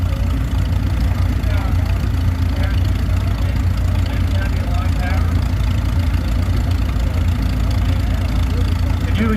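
A 1939 Model M antique tractor engine idles steadily at a show, a loud continuous low chugging, with people talking over it.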